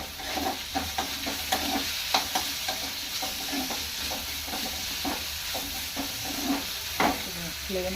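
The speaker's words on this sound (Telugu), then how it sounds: "నెక్స్ట్ వెల్లుల్లిపాయలు వేసుకున్నామండి." Garlic cloves tempering in hot oil, a close, steady sizzle broken by frequent crackles and soft stirring scrapes, with no talk over it.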